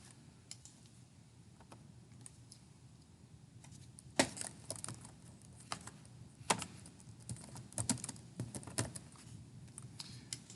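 Computer keyboard typing of a SQL natural join query in Postgres, a quiet run of scattered keystrokes that turns into denser, louder bursts of clicks partway through, with no voice.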